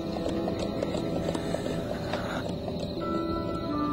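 Horse hooves clip-clopping in a steady, even rhythm as a black horse ridden English-style approaches at dusk in a radio drama, the beats continuous and fairly close over a dense, constant background bed.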